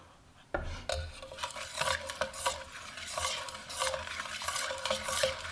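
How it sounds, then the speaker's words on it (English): A utensil stirring cream into a garlic parmesan shrimp sauce in a pan, steady scraping and swishing strokes over a soft sizzle, close and fairly quiet, with no voices. "Stir that in."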